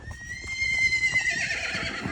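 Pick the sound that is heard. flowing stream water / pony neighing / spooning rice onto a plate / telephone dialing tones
pony neighing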